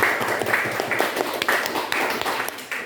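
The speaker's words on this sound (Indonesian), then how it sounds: "Oke, tepuk tangan." A classroom of students claps together in a steady, dense patter of many hands close by, with no talking over it, fading slightly toward the end.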